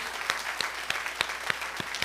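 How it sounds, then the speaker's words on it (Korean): A church congregation claps in a quick, fairly even rhythm of distinct hand claps, moderately close with a slight murmur behind. "하나님께 박수의 영광"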